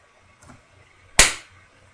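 A self-destruct move sound effect from the Pokemon Platinum video game, heard as a single sharp, loud explosive burst that decays quickly, preceded by a faint soft hit and otherwise near silence.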